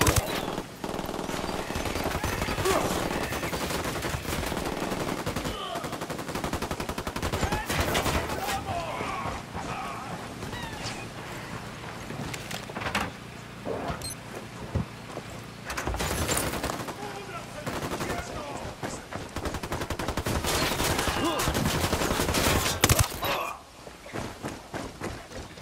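Sustained automatic gunfire and bursts of shots from the Ghost Recon Wildlands shooter game fill the scene, dense and loud with overlapping reports and occasional footsteps, while voices talk over the battle throughout.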